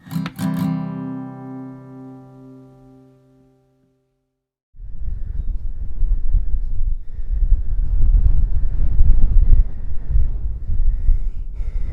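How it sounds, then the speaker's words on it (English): Strong wind blowing across open moorland on Dartmoor, buffeting the microphone with a loud, rough roar that fills the second half after a short tonal sound and a brief silence. "It's meant to be, and is, really quite windy."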